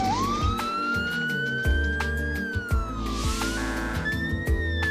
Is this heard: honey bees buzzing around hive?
no